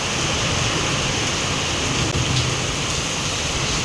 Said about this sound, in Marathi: वारा धून पाऊस काय.